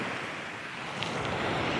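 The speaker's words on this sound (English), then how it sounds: "Love the sound of the waves." Sea waves break on the shore at Southwold, a steady, close wash of surf with rushing wind noise across the microphone, continuous with no talk.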